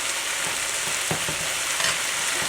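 Salted eggplant pieces fry in a pan with a dense, crackling sizzle close by. Brief scraping stirs break in now and then.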